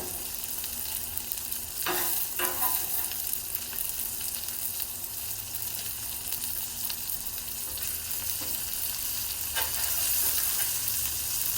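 A ribeye steak sizzles steadily in oil on a Blackstone griddle, a continuous broadband hiss with a few sharp spatters and scrape clicks, close and alone with no talk.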